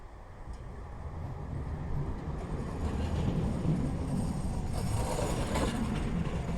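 A small tram in Bromley rumbles along on its rails with a steady low rolling hum and faint mechanical rattles, building slightly, no one speaking.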